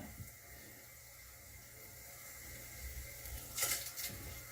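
Faint, steady water running in a toilet trickles continuously, with a brief splashy swell near the end.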